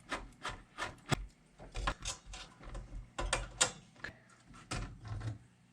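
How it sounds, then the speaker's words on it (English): Faint, close clicking and ratcheting scrapes come from a screwdriver working a Phillips screw out of an MFJ antenna tuner, with short uneven bursts of metallic turning and rubbing and no talk. "Take this Phillips screw out of there."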